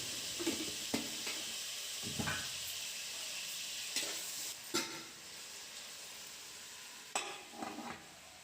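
Tomatoes sautéing with a little salt in a pan, a steady close sizzle with periodic stirring scrapes and clatters every couple of seconds.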